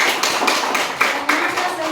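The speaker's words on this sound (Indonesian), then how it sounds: "Aduh, tepuk tangan dulu." Children in a classroom clap their hands together in a short, rhythmic pattern of sharp claps, with a voice speaking over them.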